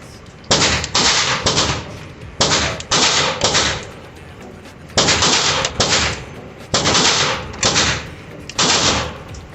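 An aluminum-frame Glock 17 race gun fires in loud, close bursts of rapid shots, four clusters of three or four sharp cracks each, separated by short pauses.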